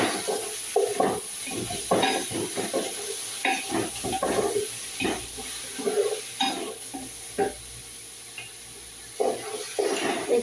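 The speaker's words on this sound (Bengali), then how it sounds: "ভালো করে গোশটাকে ভুনা করে নিচ্ছি" Goat meat with garlic and ginger stir-fried in a pan, a utensil scraping and clattering in irregular bursts over a steady low sizzle, close and moderately loud with no talking.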